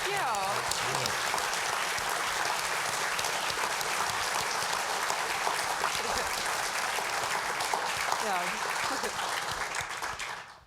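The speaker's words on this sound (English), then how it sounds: "Let's have a round of applause." An audience applauds at a public climate science talk, dense sustained clapping filling the room for about ten seconds with a voice speaking over it, then fading out at the end.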